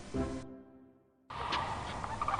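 Distant sandhill cranes give a rolling, trumpeting call that fades out, then several more calls sound faintly over background noise.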